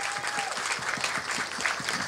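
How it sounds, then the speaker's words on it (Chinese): Steady applause from a crowd gathered at a seaside dragon boat race festival at a fishing harbor, dense rapid clapping sustained throughout at moderate distance. "我们为自己掌声鼓励一下好不好"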